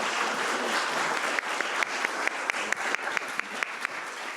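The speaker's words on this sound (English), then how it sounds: "Let's give them a round of applause." An audience at a forum claps for the panel, a soft, steady applause rising from a distant patter into clearer, individual claps toward the end.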